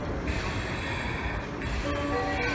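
A 383 series Shinano limited express train fills a platform at Osaka Station: a steady rumble with metallic squeals and brief chimes or announcement tones toward the end.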